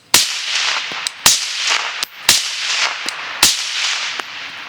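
Four sharp, loud shots from a Q Johnny Law airsoft gas gun, fired at a steady pace of about one per second, each a crisp crack with a short hissing tail.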